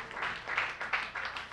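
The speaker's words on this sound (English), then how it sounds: "Let's hear a little round of applause for Mr. Bob Kane up here on the drum kit" Crowd applause in a club for the drummer at a 1996 Metallic Candle live show at the Palace, a steady wash of clapping rising and falling in soft swells, fairly faint and with no voices over it.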